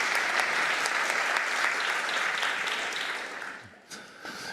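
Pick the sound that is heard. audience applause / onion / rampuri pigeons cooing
audience applause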